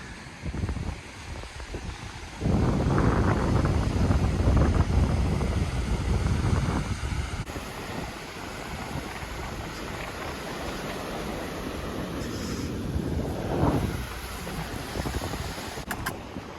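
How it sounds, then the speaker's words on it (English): Strong wind buffets the microphone at a chilly beach, a loud steady roar with surf washing in underneath, gusting harder after the first couple of seconds and easing slightly later. "It's just that wind."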